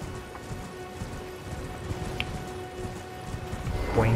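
Rapid, soft hoofbeats of a galloping horse in Elden Ring patter in a steady rhythm over a rainy hiss, fairly quiet, with a brighter chime near the end.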